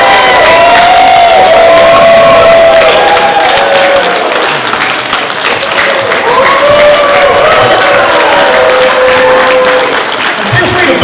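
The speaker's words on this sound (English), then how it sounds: "Please cheer for your favourite, the one you want to win." Convention audience at a cosplay contest cheering and applauding contestants on stage, a loud, sustained mix of clapping, whoops and shouting voices filling the hall without letup.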